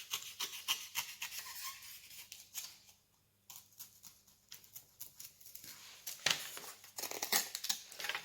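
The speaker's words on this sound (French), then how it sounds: "on prend l'outil de précision pour découper ou un cutter" A precision craft knife cuts material for a miniature wheelbarrow, giving close, faint bursts of scraping and crisp snipping strokes with a short quiet pause midway, then a quicker run of cuts.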